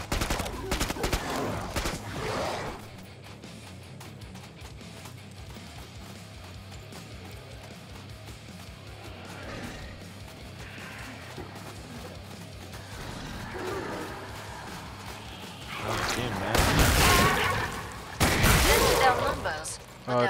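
Gunfire rings out in the Killing Floor 2 shooter, with sharp shots early on, then loud bursts of rapid fire near the end, over quieter game ambience between them.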